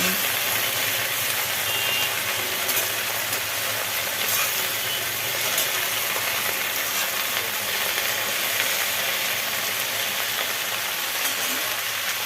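Leafy greens fry in a covered pan, giving a steady, dense sizzle and hiss that runs evenly throughout at moderate loudness, with no talk.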